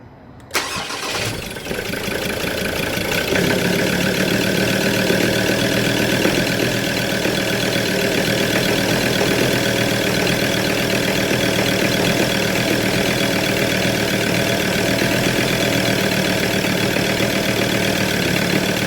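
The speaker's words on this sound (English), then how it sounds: "if all the above happens, you can start the engine. It should start as normal and should react to throttle when idling" A Ford Ranger Wildtrak pickup engine cranks briefly and fires, then settles into a steady, loud, close idle that continues unchanged for the rest of the stretch, with no talking.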